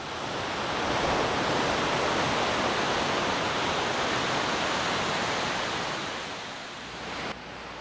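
Broad, steady roar of distant surf hundreds of feet below the cliffs at Torrey Pines, a continuous wash of crashing waves that swells slightly and dips near the end, with no voices.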